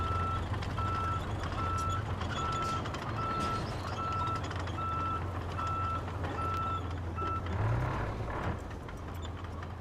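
A stump grinder truck in the RoadCraft video game sounds a steady, evenly spaced series of reversing beeps over a low engine rumble, loud and close, stopping shortly before the end.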